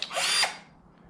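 A SKIL 20v cordless drill spins up briefly in a single short, high whirring burst of about half a second, then winds down to quiet.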